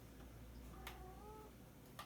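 A kitty cat gives a single soft, drawn-out meow while small screws are removed from an Acer laptop, set against a quiet room hum.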